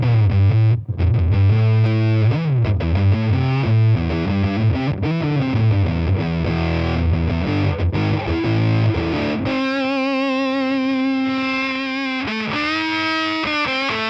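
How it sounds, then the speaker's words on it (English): An electric guitar through a Line 6 Catalyst amp with a Big Muff-style fuzz plays heavily distorted, sustained notes and bends. Near the end it settles into a long held tone, loud and steady with no voices. "that sounds like the Big Muff op amp"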